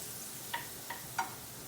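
Shrimp fry in bacon fat over medium-high heat in a pan, a quiet, steady sizzle broken by three soft clicks or taps, heard alone without talk.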